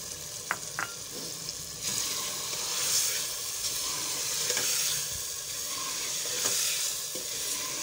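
Soaked chana dal fries with softened pumpkin pieces in a pot, giving a steady soft sizzle close by, with a few light scrapes and clinks of stirring and no voices.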